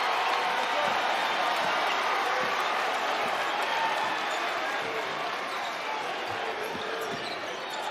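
A basketball arena crowd roars through a tense fourth quarter, a dense and steady wall of cheering and noise that fills the space, with commentators talking over it.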